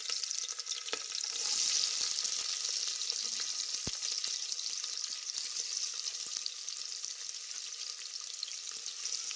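Onion and green chillies frying in oil, a dense, loud hiss of sizzling that runs unbroken, with a few sharp stirring clicks and one crisp tap near the start, close up and without talk.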